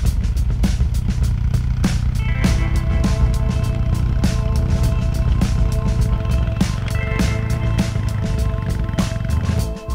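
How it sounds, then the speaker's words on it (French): A Honda VFR 800 motorcycle engine drones steadily and loudly on an icy road, with sharp repeated clicks and rattles from snow chains over the continuous mechanical roar. "La 1200 Super T d'Anto s'est retrouvée en grande difficulté sur le verglas."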